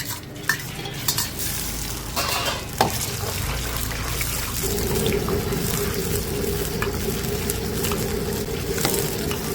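Beef sizzling and crackling in hot oil in a wok, with occasional clanks of a utensil stirring, steady and close throughout.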